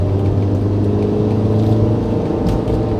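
An automatic scooter's engine, fresh from an oil change, hums loudly and steadily close up, throttle held with a smooth even drone and no talking.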